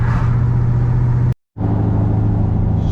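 Car with a newly installed McLeod RXT clutch and RAM slave cylinder driving smoothly, a loud steady engine drone with a brief gap before it resumes, no talk.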